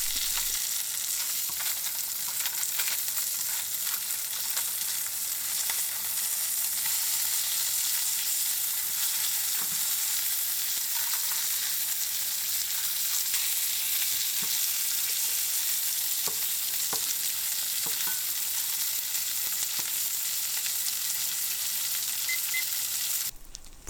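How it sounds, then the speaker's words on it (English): Salmon fillets fry in a pan over medium-high heat, a steady dense sizzle with faint crackles and pops that holds evenly throughout without talk. "Flip the salmon and cook for another 2 minutes over medium to high heat until done."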